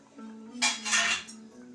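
A metal lid lifted off a cooking pot of chicken gravy gives one short clattering clink in the middle, close and fairly loud over a low steady hum.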